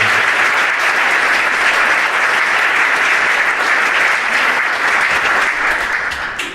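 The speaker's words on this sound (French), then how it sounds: "Les représentants, on peut les applaudir." An audience applauds young elected representatives from children's and youth councils at a civic New Year's greeting ceremony, steady dense clapping filling the room for several seconds before tapering slightly at the end.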